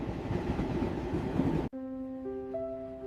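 Train rolling along the rails, a steady broadband rumble that cuts off abruptly partway through, after which faint sustained tones hold alone.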